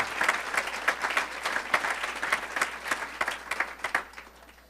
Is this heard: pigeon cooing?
no